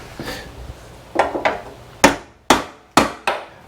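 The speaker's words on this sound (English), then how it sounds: "Actually, I think I gotta hammer this" A hammer strikes a bolt on a vintage motorcycle on a stand in a shop, several sharp metallic blows in a steady rhythm getting louder and more evenly spaced, close and clear with almost no talk.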